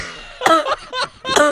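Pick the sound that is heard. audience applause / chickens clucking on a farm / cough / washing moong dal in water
cough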